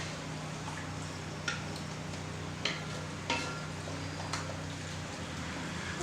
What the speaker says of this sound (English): We'll give all this a good stir.